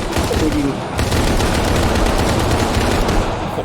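Rapid automatic gunfire from a VR zombie shooter game rattles on loud and close for the whole stretch, with a voice briefly heard beneath the shots.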